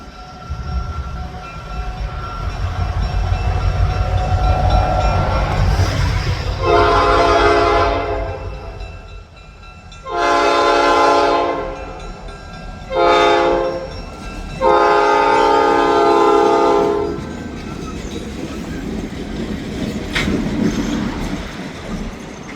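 A freight train horn blares in several long blasts over the low rumble of the passing train in Wisconsin, loud and close, with pauses between the blasts.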